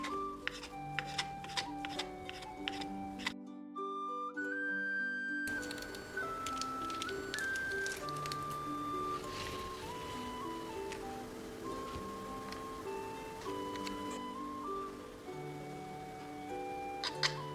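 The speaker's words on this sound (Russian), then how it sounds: "Нарезаю их мелко." A knife finely chopping crab sticks, tapping quickly and lightly on a cutting board, a rhythmic series of soft chops playing under melodic background music.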